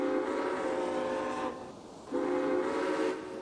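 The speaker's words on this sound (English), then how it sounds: "You sound amazing. What a nice train that is." In the Railway Empire video game, a train's horn sounds in two long, loud, steady blasts separated by a short gap, carried over the continuous rumble of the running train.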